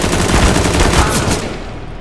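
Rapid close automatic gunfire in Counter-Strike: Global Offensive, a loud dense burst of shots lasting about two seconds before tailing off.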